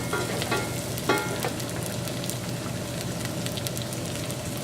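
Onions sauteing in a pan for rice pilaf, giving a steady close sizzle with faint crackles and a few soft stirring clicks, no talking.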